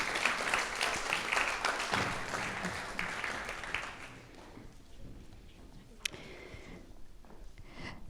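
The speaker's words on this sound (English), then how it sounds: "I would invite all of us to give another round of applause for the amazing 8 finalists that pitched" An audience at a student pitch competition gives a round of applause for the finalists. Dense, moderately loud clapping fills the first few seconds, then dies away to a quiet hall with a stray clap or two.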